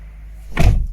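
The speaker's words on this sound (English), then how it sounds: "let me open the door" A rear door on a Ford C-Max opening, a single close, solid mechanical thunk with a brief rattle of the latch, loud and near, heard alone.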